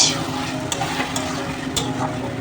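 Masala and potatoes being stir-fried in a pan over low heat, a steady close scraping and soft sizzle with occasional clinks of a spoon against the pan.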